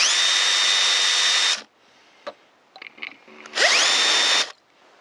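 Power drill boring out rivets on a Vauxhall Combo van windscreen wiper assembly: two loud sustained whining bursts with a rising spin-up, separated by a quieter gap of small clicks and metallic knocks.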